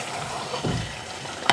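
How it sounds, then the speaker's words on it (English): Hot ghee bubbles and sizzles in a pan while beef pepper curry is cooked, a steady close crackle with a soft bump partway and a sharp clink at the end. "what you can see bubbling away there is the ghee"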